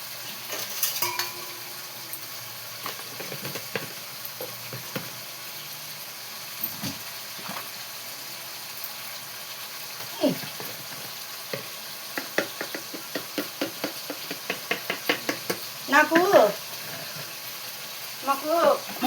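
Keema and ridge gourd curry frying and sizzling in a pan, with a steady hiss broken by repeated stirring scrapes and clinks of a spoon against the metal, while a voice talks throughout.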